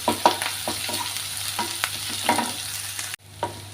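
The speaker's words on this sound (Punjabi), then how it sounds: "ਹੁਣ ਪਾ ਦਾਂਗੇ ਲਸਣ ਅਦਰਕ ਦਾ ਪੇਸਟ ਕੁੱਟਿਆ ਹੋਇਆ ਲਸਣ ਅਦਰਕ ਦੇ ਪੇਸਟ ਨੂੰ ਅਸੀਂ ਬਸ ਲਾਈਟ ਬਰਾਊਨ ਹੀ ਕਰਾਂਗੇ" Crushed garlic-ginger paste fries in a pan for Punjabi-style aloo gobi, a close, loud sizzle broken by repeated stirring scrapes and clinks of a spoon against the pan.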